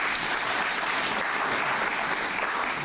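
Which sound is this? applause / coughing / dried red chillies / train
applause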